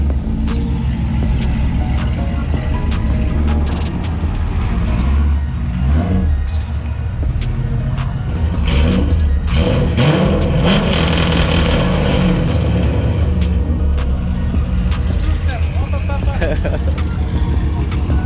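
Chevrolet Corvette C5 pulling out of a shop, its engine loud and close with revving surges, plus a few clanks and knocks along the way.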